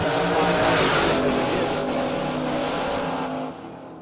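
A Mustang drag car launches hard down the track at a drag racing event, a loud sustained engine roar that fades slightly toward the end, with faint commentary underneath.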